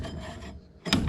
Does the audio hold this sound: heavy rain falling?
no